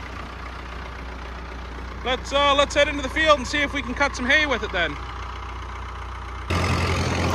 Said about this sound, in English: tractor's filled up with fuel, hay bind's hooked up, got the hydraulics hooked up, they're working